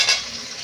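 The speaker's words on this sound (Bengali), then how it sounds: "এটা গরম হয়ে গেছে, এবারে একে একে সব ভেজে নেব, ভালো করে সব ভেজে নেব।" Winter vegetables for vegetarian fried rice stir-frying in hot oil, a brief close sizzle with a soft scrape of the spatula at the start, then the sizzle fades to a quieter hiss.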